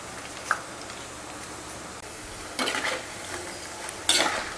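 Wheat flour onion pakoda batter dropped into hot oil, faint steady sizzling with two louder bursts of frying as pieces hit the oil, plus a small utensil clink early on.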